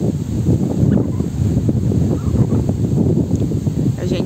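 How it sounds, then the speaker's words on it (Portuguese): Strong cold wind blows across a riverside sand beach, buffeting the microphone with a loud, steady, gusty roar that continues throughout with no pauses. "Bastante vento hoje, bem frio."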